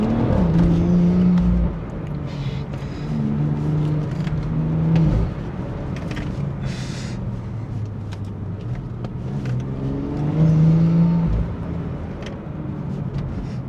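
A BMW F30 sedan on Extreme Contact tyres pulls away from a standstill to about 50 km/h, its engine note rising and falling through several gear changes, heard loud and steady from inside the cabin.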